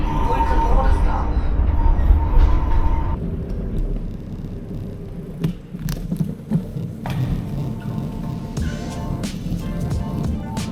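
A train made of three coupled units travels from Bratislava towards Vienna, with a loud rolling rumble that eases after a few seconds into quieter running broken by clicks and rattles.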